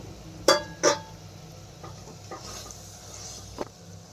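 A spoon scrapes and clinks against a pan while mushroom biryani masala is stirred, two sharp metallic knocks early on, then softer scraping and a faint sizzle in the background.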